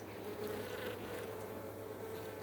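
Honeybees buzzing around a beehive at an apiary in Kincardine make a steady, close, droning hum that holds at an even level throughout.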